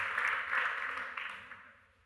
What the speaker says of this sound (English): Go ahead, you can clap for that